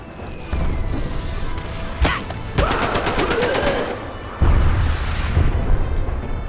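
Loud bursts of gunfire from a WW2 weapon in the Medal of Honor: Above and Beyond VR shooter, with sharp shots and a rapid automatic stretch mid-clip, set against a continuous battlefield rumble.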